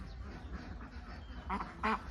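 Khaki Campbell laying ducks roaming outside their pen on a farm give two short quacks near the end, over a low, steady outdoor rumble.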